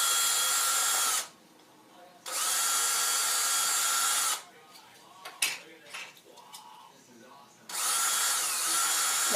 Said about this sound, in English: I'm going to go ahead and drill the holes